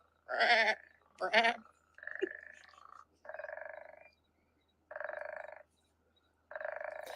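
A pet frog calls in a series of buzzy, bleating croaks, two sharper ones up front followed by several longer droning calls separated by short silences, close and clear with no voices over them.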